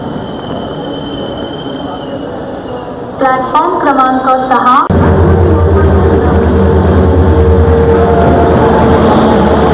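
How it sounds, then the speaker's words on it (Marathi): A Janshatabdi Express pulls into a platform at Thane station, its wheels squealing in a cluster of high metallic tones before a loud, steady rumble of wagons takes over, with a public-address voice and crowd noise in the background. "जनशताब्दी ट्रेन आलेली आहे"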